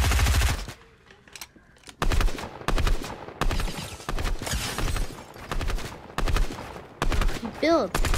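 SMG fire in a video game comes in several rapid bursts of loud, close gunfire, separated by short pauses and one quieter gap early on.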